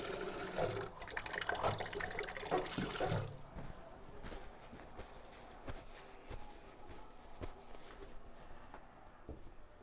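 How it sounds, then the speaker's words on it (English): Tap water runs and splashes over hands being rinsed at a kitchen sink, loud and steady for the first three seconds, then the flow stops and only faint drips and handling sounds remain. "I'm going to rinse my hands off here."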